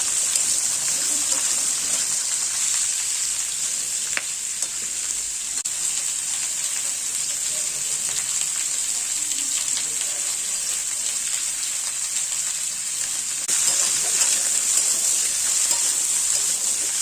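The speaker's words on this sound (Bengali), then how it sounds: "এইবারে দেখুন, সবজিগুলো বেশ ভালো মতো ভাজা" Cut vegetables frying in oil for Bengali shukto, a steady hissing sizzle that holds throughout, swelling slightly louder toward the end.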